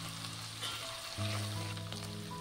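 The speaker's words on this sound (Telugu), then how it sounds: "నూనె వేడైన తర్వాత అల్లం వెల్లుల్లి పేస్ట్ వేసుకుందాం." Ginger garlic paste hisses and sizzles steadily in hot oil in a pan for a yam and okra tamarind stew, a continuous close frying crackle over a low hum.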